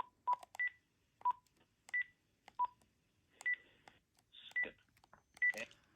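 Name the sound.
Panasonic KX-PRS120 phone simulated incoming call tones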